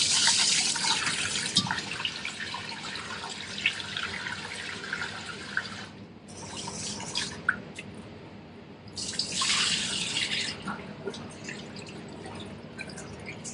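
Rice is washed in water in a kitchen, with close sloshing, splashing and trickling in uneven waves and a brief lull midway. No one talks over the watery noise.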